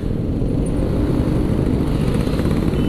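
A KTM Duke motorcycle riding on a road gives a continuous, close engine drone blended with heavy wind rush, loud and unbroken with no talk.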